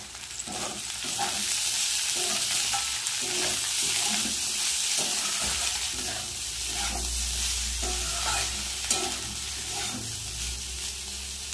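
Bitter gourd, pumpkin and eggplant fry with poppy seeds in a pan, a steady close sizzle broken by repeated scraping stirs, with no talking.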